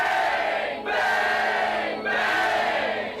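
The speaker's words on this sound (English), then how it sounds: "as Bane raises his championship belt above his head, the crowd erupts, shouting wildly" A wrestling arena crowd erupts as the champion raises his title belt overhead, a loud, dense roar of shouting voices that swells continuously and briefly dips twice before surging again.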